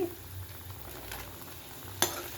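Food frying in a pan on a stove until golden, a low steady sizzle with faint stirring and one sharp utensil clink near the end, heard up close with no talking.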